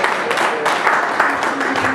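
An audience in a music-themed session on Caribbean reggae gives a dense, steady round of applause, continuous and fairly loud from start to finish, with a faint murmur of voices under the clapping.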